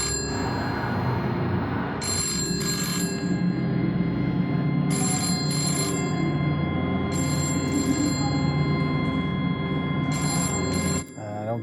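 A telephone rings in repeated bright, trilling bursts about every three seconds over a dense, droning background score in a horror short film, each ring loud and clear.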